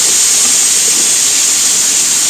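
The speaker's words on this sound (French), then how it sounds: "je vais venir faire dorer tout ça ensemble jusqu'à ce que l'oignon soit cuit et les lardons bien revenus" Onion and lardons brown in a hot pan, making a loud, steady, hissing sizzle that holds unbroken and close throughout.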